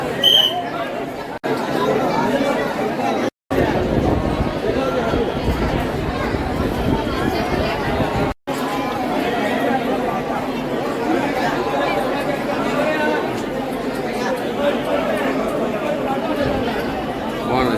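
A large crowd chatters at the Omkareshwar Jyotirlinga temple in Madhya Pradesh, a dense, continuous babble of many voices close around, broken by a few brief cuts.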